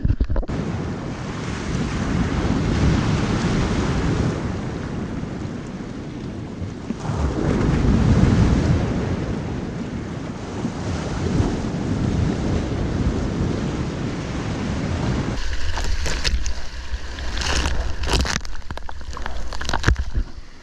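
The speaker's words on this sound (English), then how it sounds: "Crazy waves." Heavy ocean surf on an overcast day surges and crashes in rolling swells, loud and close, with strong wind buffeting the microphone and a sharper rustling disturbance near the end.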